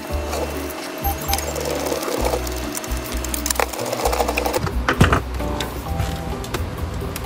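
An electric screwdriver drives screws back into the filter housing of a Dyson V10 cordless vacuum, its motor buzzing in several short runs with pauses, followed by plastic clicks and handling clatter.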